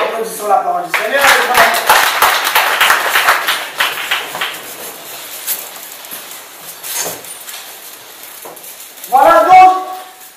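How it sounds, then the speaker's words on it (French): A church congregation claps during a sermon, a burst of many hands in the opening seconds that fades to scattered claps, with a voice speaking at the start and again near the end. "Applaudissons la parole du Seigneur"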